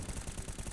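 Auto sniper rifle fire in a Counter-Strike match: a short, quiet burst of rapid, evenly spaced shots lasting under a second.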